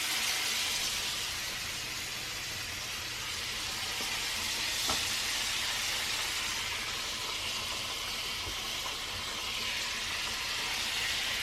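A chicken breast sears in a hot pan, giving a loud, steady, close sizzle and hiss that runs unbroken, with a faint clink partway through.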